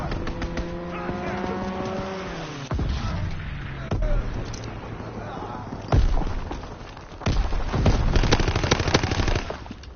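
Rapid gunfire in the video game Call of Duty WW2, with loud bursts of automatic fire and single shots over a steady rumble of in-game engine and battle noise, continuing for several seconds.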